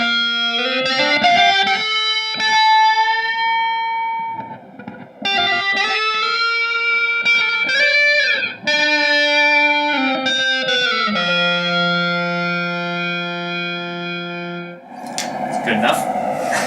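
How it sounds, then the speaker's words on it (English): Electric guitar played through a reverse reverb effect, with swelling sustained notes and sliding bends that rise in and cut off, run through distortion and chorus, loud and close, ending in a noisy burst. "So that's where the reverse reverb comes in for me."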